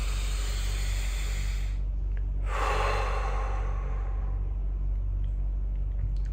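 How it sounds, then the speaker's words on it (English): A deep breath drawn in and let out, a soft airy inhale followed by a long, fuller exhale close to the listener, with no talking. "Deep breath."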